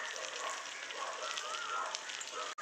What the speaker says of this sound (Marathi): आता वरणाला फोडणी घेऊन राहिले।